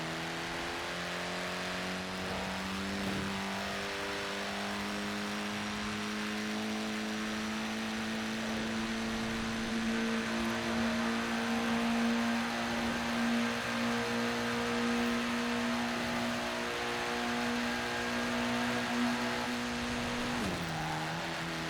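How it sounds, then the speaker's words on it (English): Upgraded Mini in Forza Horizon 4 holding a rising engine drone as turbo boost builds, a steady loud whir climbing in pitch for about twenty seconds with a brief dip near the end. "Can hear the boost building"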